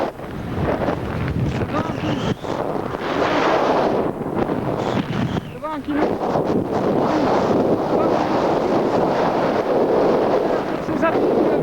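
Strong wind gusting hard across a high Alpine ridge, buffeting the microphone with a loud continuous roar and rumbling gusts, while someone speaks French over it.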